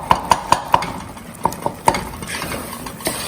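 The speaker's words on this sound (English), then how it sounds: "go on stirring" Thick tamarind pulp being stirred in a pan for puliyodharai, a utensil striking the pan in a quick run of ringing taps, then slower scraping strokes over a low bubbling simmer.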